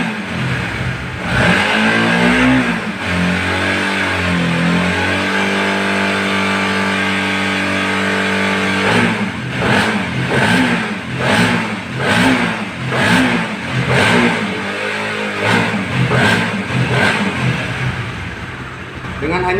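Honda CB150R motorcycle engine revving under throttle, a mid-pitched rising roar that settles into a series of rhythmic repeated blips and revs, loud and close, with someone talking over parts of it.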